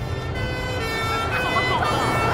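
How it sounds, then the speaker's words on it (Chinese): An ambulance siren wails steadily on a street after a traffic collision, growing slightly louder against a constant rumble of road traffic. "别紧张，救护车马上来。"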